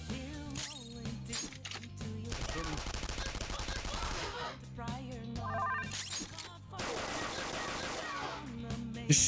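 Gunfire in the video game Persona 5 Royal, rapid automatic bursts in two stretches over game music and effects, with a person talking at moments.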